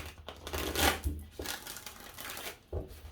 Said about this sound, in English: Ooh, 5 shuffles.